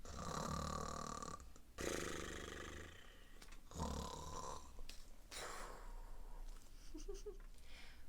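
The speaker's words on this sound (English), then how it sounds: "but his friends snore on." Deep, rumbling snores repeat in long, rough breaths, close and fairly loud, with no talking.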